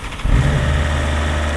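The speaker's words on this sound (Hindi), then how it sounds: "अब बाइक स्टार्ट करने का टाइम आ गया" A BMW motorcycle engine cranks and fires at close range, catching at once and settling into a loud, steady idle rumble, with no voices.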